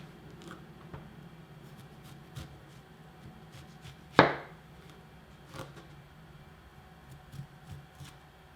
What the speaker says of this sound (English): some people will come in here with their knife and just shave around it